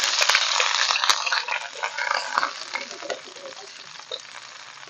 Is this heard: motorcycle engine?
no